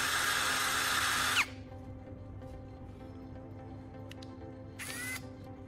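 An electric drill spins a carbon rod against sandpaper to grind one end to a fine point for a DIY welding tool. Loud, steady whirring grind for about a second and a half, a quiet hum, then a brief second burst near the end.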